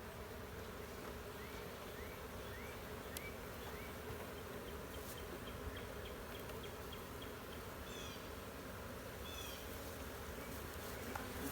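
Honey bees buzz around a hive in a steady, faint drone that continues throughout, with a few soft chirps scattered above it and no voices.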